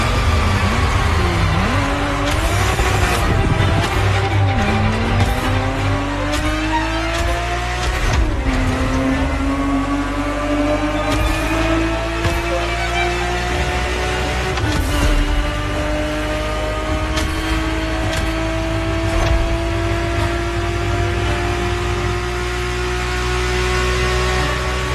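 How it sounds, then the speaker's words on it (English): Ferrari 365 GTB4 racing car from the 70s in a racing video game, engine revving and climbing through gears in long rising sweeps, loud and continuous with occasional skids. "The Ferrari 365 GTB4 is the perfect vehicle for you to experience Ferrari racing as it felt back in the 70s"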